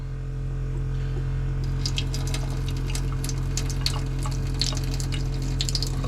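Water runs steadily from a faucet in a vintage camper at modest pressure, a continuous close hiss and splash over a low hum, with no voices.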